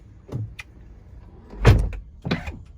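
Tesla Model X door closing by itself, a soft motorized whir with a muffled thud near the middle and a second mechanical movement after, close and fairly quiet.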